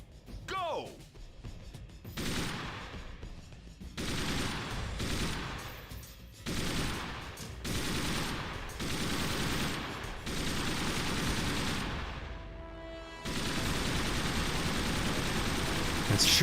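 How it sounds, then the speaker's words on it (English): Sustained minigun fire from a ground-based turret in the shooter game Timesplitters: Future Perfect, long dense bursts of rapid gunfire broken by short pauses, loud and close, with voices faintly underneath. "it looks like you're in a gunner seat firing a minigun"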